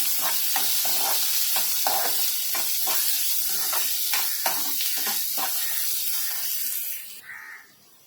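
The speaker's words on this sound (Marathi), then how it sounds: "आता इथे आपण कांदा टाकून घेऊया आता गॅस मोठा करून आहे ना कांदा चांगला लाल करायचा" Onion for kanda pohe frying over a high gas flame, with a loud, continuous hissing sizzle broken by regular scraping stirs. The sizzle drops away abruptly near the end.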